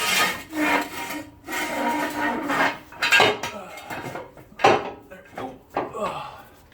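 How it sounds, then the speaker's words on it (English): A truck comes down on its jack onto a metal jack stand during an oil change, producing a series of irregular metallic clanks, scrapes and grinding bursts close by, with short pauses between them. "I always actually like to set it down on the jack stand just a little bit"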